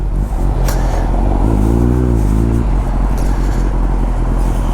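A motorcycle pulls away in Paris traffic, its engine note climbing briefly in a rising rev before dropping back into the steady rumble of close vehicle noise.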